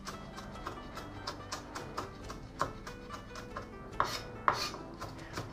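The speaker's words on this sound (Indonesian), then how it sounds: "Nah kemudian aku cincang begini saja" Knife chopping shallots on a cutting board, a quick run of steady, fairly faint taps with a few sharper knocks, heard alone.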